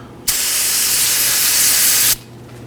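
Brake cleaner hisses from an aerosol can in one loud, steady burst lasting about two seconds during a wheel cylinder job on a Nissan Sentra, starting and stopping abruptly against a quiet garage background.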